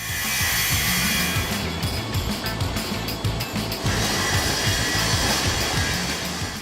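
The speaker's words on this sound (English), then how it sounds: "They started by cutting the floor joints to clean them out and expose fresh concrete." A saw cutting out the joints of a commercial concrete floor, a loud, continuous grinding whine with a steady rough rumble, close and unbroken throughout.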